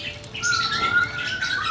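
An oriental magpie-robin gives chirps and squawks while being bathed during its moult, with splashing water patter underneath, close and fairly loud throughout.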